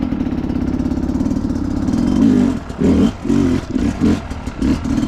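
A Sherco 300 SE dirt bike fitted with an S3 Extreme cylinder head idles steadily up close, then snaps through a series of quick, sharp throttle blips that rise and drop back in short bursts.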